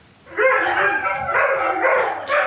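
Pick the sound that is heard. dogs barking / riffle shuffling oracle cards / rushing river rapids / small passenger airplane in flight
dogs barking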